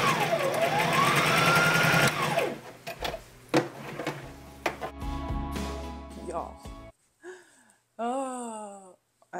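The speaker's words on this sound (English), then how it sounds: "I'm gonna tack down that facing by putting a stitch right along the ditch, so right along that seam of the shoulder" Sewing machine stitching along the shoulder seam of a woven dress to tack down a facing, a steady close motor whir for about two seconds, followed by softer handling clatter and a person talking.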